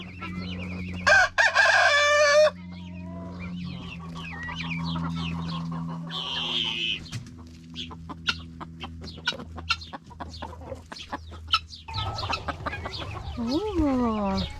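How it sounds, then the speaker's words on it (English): A broody turkey hen, kept confined on a small farm, makes repeated clucks and calls close by, with sharp loud bursts amid quieter chatter and other poultry noises. "Our Broody turkey."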